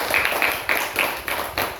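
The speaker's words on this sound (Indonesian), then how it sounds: "Oke, tepuk tangan." A school class in Indonesia claps hands together, a dense burst of applause with rapid overlapping claps and a few sharper accents, near and moderately loud, with no talk over it.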